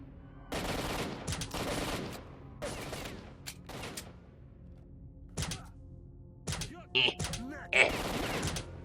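Bursts of gunfire from the shooter game STALKER: Shadow of Chernobyl, set in the Bar area, with a silenced pistol and an AK involved. Several loud clustered volleys are separated by short pauses, with sharper single shots and impacts near the end.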